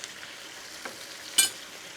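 Rogan Gosht curry thickens in a pan of oil, giving a soft, steady frying sizzle with a few small pops and a brief louder spit near the end.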